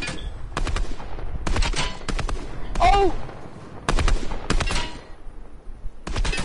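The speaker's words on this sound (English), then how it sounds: "Why do I see gunshots?" Gunfire in a video game pops out in repeated sharp bursts and volleys, fairly loud and spaced through the clip, with a brief exclamation from a player partway through.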